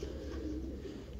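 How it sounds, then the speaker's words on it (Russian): A pigeon cooing close by, a soft low throaty coo lasting about a second over a steady background hum, from a pigeon keeper's rooftop flock. "Голуби"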